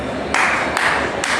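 An audience bursts into short applause in a hospitality talk hall, giving a few quick rounds of clapping that swell and fade in brief bursts.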